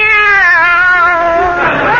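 A cat meow sound effect from a 1955 radio comedy: one drawn-out, close meow lasting about two seconds, sliding slightly downward in pitch and heard alone.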